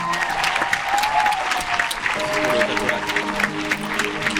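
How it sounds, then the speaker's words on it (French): A studio audience at a podcast recording gives a guest a steady round of applause, dense and even throughout, with faint voices mixed in. "Un tonnerre d'applaudissements pour Mehdi"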